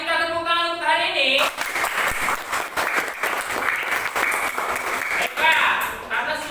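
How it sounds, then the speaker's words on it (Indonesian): Classroom applause, a lively burst of clapping from students after a teacher's closing words, dense and continuous for several seconds with voices briefly audible at the start and end. "kita tepuk tangan untuk hari ini."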